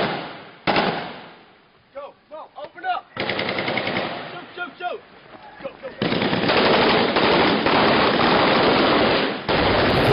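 Rifle and machine-gun fire erupts after a shouted order to open up, with scattered single shots growing into loud, sustained bursts of automatic gunfire close by, a few voices heard amid the opening shots.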